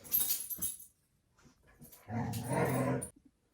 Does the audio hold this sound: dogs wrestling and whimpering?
yes